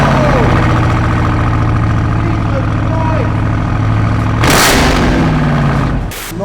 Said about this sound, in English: Nice to finally hear the JZX up and running.